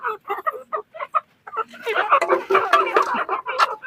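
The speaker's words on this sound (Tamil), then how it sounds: "அந்த கோழி பிடிங்க" Short, rapid clucks from a country chicken in quick bursts, followed by overlapping voices talking with more clucking mixed in.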